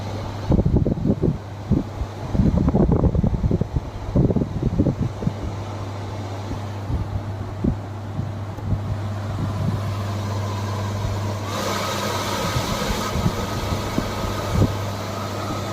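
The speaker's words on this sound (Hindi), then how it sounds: "तो देखिए कूलर चालू हो चुका है" A restored, fully rusted water air cooler running, its fan motor humming steadily with a low tonal drone, accompanied by irregular knocks and rattles early on.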